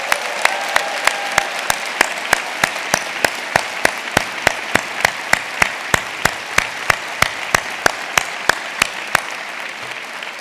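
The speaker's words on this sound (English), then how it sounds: "let's give our families and friends a big round of applause" A big crowd at an honors convocation ceremony applauds steadily, a dense wash of clapping with a rhythmic pulse of claps running through it for the whole stretch.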